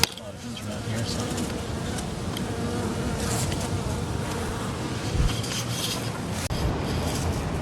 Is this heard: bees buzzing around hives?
yes